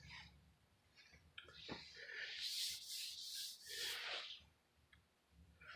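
Hand sanding of a sagging run in automotive clearcoat with 320 grit sandpaper, heard as quiet, close scratchy rubbing strokes that swell and fade in an uneven rhythm, with no talking.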